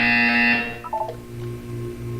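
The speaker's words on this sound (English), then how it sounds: "You will hear a buzzer. When you hear the buzzer, look down at the floor." A harsh electronic buzzer from the Portal 2 video game test chamber sounds loudly for about half a second, then cuts off, followed by a few short higher electronic tones over a steady low hum.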